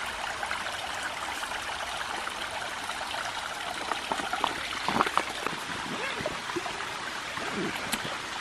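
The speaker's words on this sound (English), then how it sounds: "it is time to filter some water" Water streams and trickles steadily, with a soft continuous rush and a few brief splashy bursts midway.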